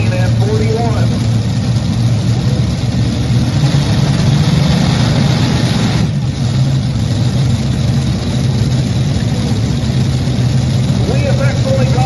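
A pulling tractor's engine runs steadily at a tractor pull, a loud continuous low drone with little change, close and unbroken.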